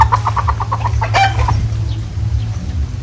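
Chickens clucking close by in a backyard coop, a quick run of rhythmic clucks followed by a louder squawk over a steady low hum.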